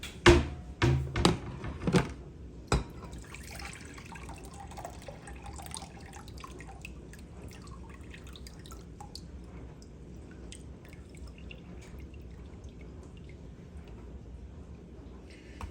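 Pineapple juice draining from canned fruit into a container, a few close splashy drips and pours at first, then a faint, quiet trickle continuing in the background.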